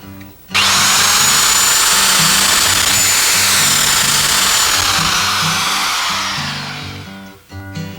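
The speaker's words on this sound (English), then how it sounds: "Use the drill and 1/2-inch bit to drill 4 corner holes" A power drill with a 1/2-inch bit whirs loudly and steadily for several seconds, then spins down and stops, alone without talk.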